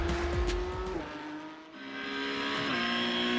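A Porsche 911 GT3 Cup (992) race car lapping Silverstone International in a racing game, its engine howling at high revs, dropping briefly on a downshift and then climbing again, loud and close throughout with a faint tire squeal.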